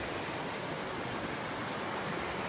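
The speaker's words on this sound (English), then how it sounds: "Here we come upon Coyote Creek." Continuous rushing water from Coyote Creek in the Yosemite backcountry, broad and steady with no breaks, heard close by.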